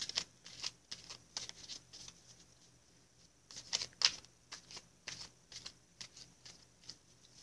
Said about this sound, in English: I'm going to grab the Sage Goddess Gemstone Oracle deck, give it a couple of shuffles